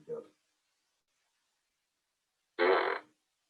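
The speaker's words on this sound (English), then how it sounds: "My son is having fun with the fart gun" A child's toy fart gun lets out one loud, buzzy fart noise after a long pause, close and clear, with a brief bit of voice at the very start.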